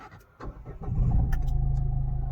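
A used Ford EcoSport Titanium diesel with 126,000 km starts from its push button: a few quiet clicks, then the engine cranks and catches. It settles into a steady, throbbing diesel idle close by.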